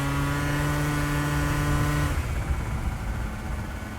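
A Yamaha Jog 70cc two-stroke scooter engine at high revs, a buzzing, strongly tonal drone held steady for about two seconds before it drops into a rougher, noisier run, recorded close on board while riding.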